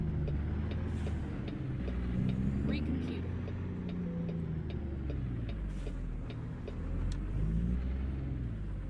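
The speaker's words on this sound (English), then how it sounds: "This guy's braking and gassing and braking and gassing and braking and gassing" A truck in American Truck Simulator slowing and speeding up by turns, its engine rumble rising and falling in repeated swells, steady and fairly close, with no voice over it.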